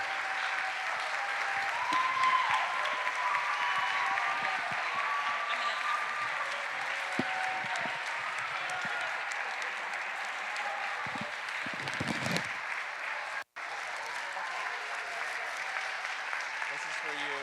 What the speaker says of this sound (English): give them a round of applause of appreciation for their